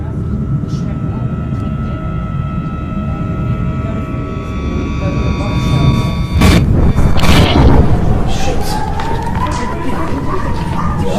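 Several loud, deep fireworks booms burst out around the middle, over a steady rumbling background with voices talking throughout.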